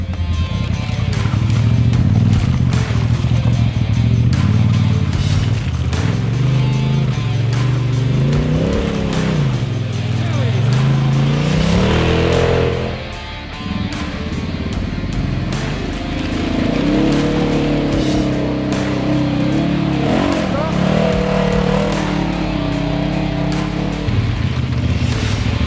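A 4WD vehicle climbs an off-road track at Woodhill at night, its engine roaring loud and close with rising and falling revs under strain, a brief dip midway, then continuing to labor uphill.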